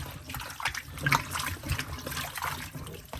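Water rinsing raw oxtail squeezed with lemon, a soft, uneven trickle and splash close by, faint and continuous with no speech.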